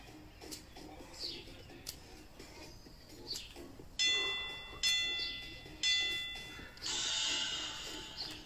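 An interval timer bell rings four bright dings, each ringing on and fading, spaced about a second apart, close and clear over a quiet room with faint bird calls in the background.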